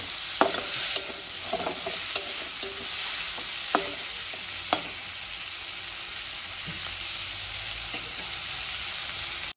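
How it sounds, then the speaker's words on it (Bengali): Small prawns frying in oil with salt, turmeric and chili powder, a steady bright sizzle with a few sharp clicks of a utensil early on, then mostly continuous frying, close and even. "আমি সামান্য নুন হলুদ আর একটু লঙ্কার গুঁড়ো দিয়ে দিয়েছি। ওই হালকা লাল করে ভেজে"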